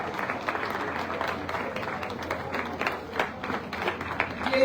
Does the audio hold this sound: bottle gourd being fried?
no